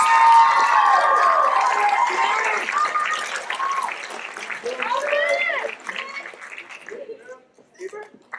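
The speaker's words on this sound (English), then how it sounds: "how about a round of applause for next year's competitive team leaders?" At a JROTC awards ceremony, the audience claps for team leaders. The applause is full at first, then fades under loud cheering and whooping voices before trailing off into scattered claps.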